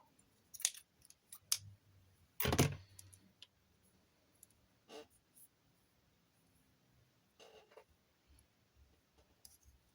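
Scissors snip through recycled craft material, giving a few sharp clicks and one louder cut near the middle, with scattered small taps and handling noises around them in a quiet room.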